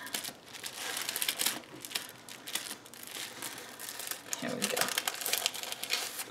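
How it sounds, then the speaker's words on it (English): Once More with Love sticker sheets are pulled out with repeated close crinkling and rustling of paper and plastic, busy and continuous with brief louder handling bursts. "I'm going to pull out my Once More with Love stickers"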